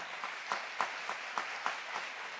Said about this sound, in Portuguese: Vamos dar uma salva de palmas para isso,